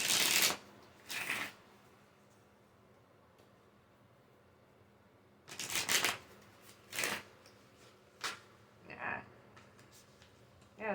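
A deck of tarot cards is shuffled up close in a quiet room. Brisk riffling bursts come in two quick passes, then after a pause a cluster of several shorter riffles and flicks follows.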